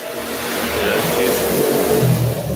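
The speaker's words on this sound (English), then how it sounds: "Motorcycle going by" A motorcycle engine passes by outside near a garage, a steady mid-pitched drone that swells slightly and holds loud throughout, with no talking.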